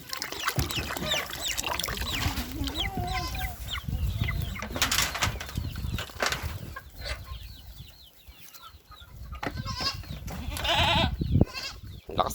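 Excited buck goats on a farm bleat repeatedly in loud, overlapping calls, with chickens clucking among them and a busy, irregular barnyard rhythm throughout.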